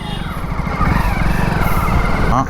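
KTM motorcycle riding off-road on a dirt course, its engine droning steadily and loudly close by, with a rough, buzzing tone throughout.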